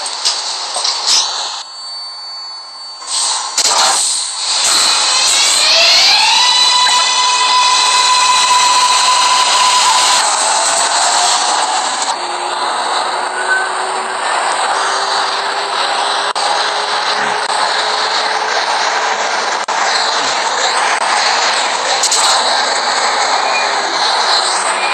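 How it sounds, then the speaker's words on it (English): Kawasaki R188 subway train on the 7 Express toward Flushing Main Street, simulated in Hmmsim 2, with a steady loud rolling drone, rising and falling motor whine and squealing tones throughout. "This is a Flushing Main Street bound 7 Express train."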